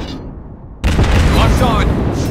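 A heavy explosion bursts in at once as an enemy ship is destroyed in a World of Warships Blitz naval battle, a loud sustained roar and rumble that stays dense to the end after a quieter lead-in.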